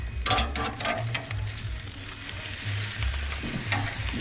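A bream fillet sizzles steadily in a frying pan just after being flipped, a continuous close hiss with brief louder bursts and faint clinks, no voices.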